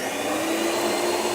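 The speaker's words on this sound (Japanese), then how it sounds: "こう掃除機の方向向けながら" A vacuum cleaner runs steadily and close by while cleaning a car seat, a continuous loud whine and rush with no breaks and no talking.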